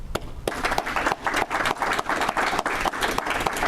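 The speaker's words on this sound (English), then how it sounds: "A round of applause to everybody." Applause from an audience at a Rotary gathering, dense and steady with sharp individual claps standing out, loud and close, continuing throughout with no talk.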